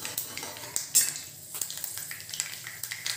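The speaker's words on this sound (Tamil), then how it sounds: "கடுகு வெந்தயம் ரெண்டும் நல்லா பொரியணும்." Mustard seeds and fenugreek splutter in hot oil for a tomato garlic gravy, giving close, steady crackling and sizzling with scattered sharp pops and light clinks of a utensil in the pan.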